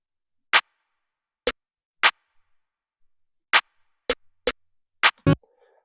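Sparse percussive claps and snares from a hip-hop beat intro: eight crisp, dry hits spaced irregularly, the last few coming quicker, loud and alone against silence.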